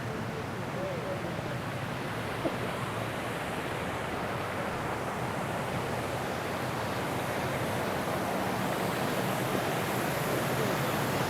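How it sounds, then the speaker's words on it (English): Loud, steady rush of water pouring over a dam, a continuous broadband roar that holds unchanged throughout. "we're coming up on the part of the dam where the water actually flows over."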